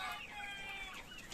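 Chickens on a poultry farm raising around 1,200 birds cluck and call in a dense, steady chorus of overlapping high voices, close and continuous with no talk.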